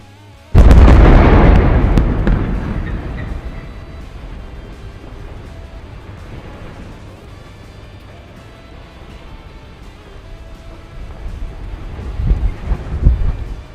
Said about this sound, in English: a demolition only needs explosives loaded on the foundations of the building in the same direction the building is planned to fall